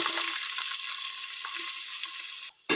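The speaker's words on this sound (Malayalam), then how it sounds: "സവാളയും ക്യാരറ്റും ഒന്ന് വഴറ്റണം" Onion and carrot sauté in a pan with an even, continuous sizzle up close, cutting off abruptly near the end.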